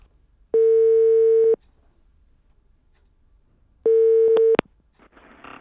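A telephone call tone sounds as two loud, steady electronic beeps about a second long with a pause between them, followed by faint clicks and a brief burst of line noise.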